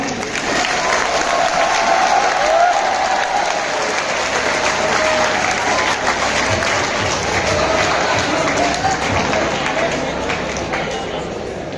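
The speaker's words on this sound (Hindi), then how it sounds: "जोरदार तालियां।" Strong, continuous clapping from a crowd gathered at a school inauguration event in Neem Ka Thana, steady and close throughout with a faint murmur of voices underneath.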